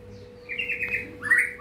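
A long-tailed white-rumped shama kept in a home aviary sings overhead, two clear whistled phrases with a pause between, close and fairly loud over a quiet hum.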